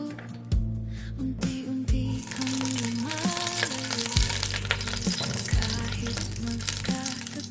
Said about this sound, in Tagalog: Mainit na guys. Maglagay tayo ng kunting sunflower oil guys.